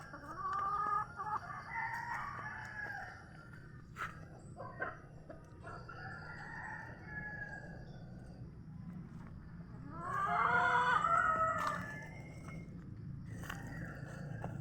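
Chickens cluck repeatedly nearby while a rooster crows loudly partway through, over a steady background hum.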